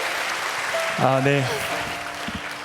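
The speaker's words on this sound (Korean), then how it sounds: "큰 박수로 한 번 더 격려하면 좋겠습니다" Audience applause fills a talk-concert hall as a steady, moderately loud patter, with a short spoken word from a man briefly rising over the clapping.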